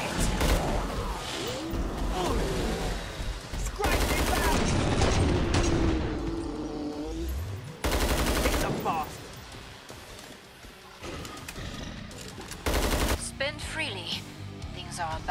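Bursts of gunfire in the video game Killing Floor 2, loud and in rapid rounds with pauses between volleys, alongside explosions and character voices talking.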